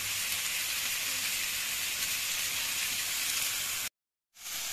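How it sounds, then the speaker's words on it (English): Tomatoes and vegetables frying in a hot pan give a steady, dense sizzle and hiss with scattered pops, close and continuous, cutting out briefly near the end before resuming. "Now we add some tomatoes and then mix well, and it just makes the popping sound."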